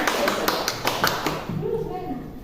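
Several people clapping for Pak Indar in a teacher training session, a handful of sharp irregular claps over about a second and a half, then fading as a voice speaks in the room.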